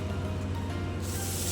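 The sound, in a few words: pressure washer spraying water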